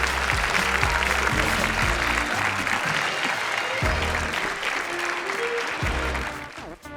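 A graduation ceremony crowd applauds the graduating class, a dense sustained round of clapping that carries on loudly before thinning out near the end.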